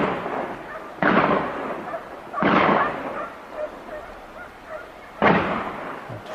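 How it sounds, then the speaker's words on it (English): Rifle shots fired during a wild boar hunt outdoors, three loud sharp cracks spaced a second or two apart, each trailing off in a rolling echo. "we began firing"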